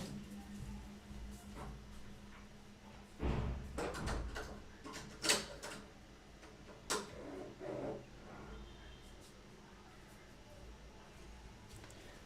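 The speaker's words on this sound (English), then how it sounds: "Can you guys hear that door slam that is happening?" A door inside a house bangs and knocks several times, a few sharp thuds spread over several seconds against a quiet room with faint background murmuring.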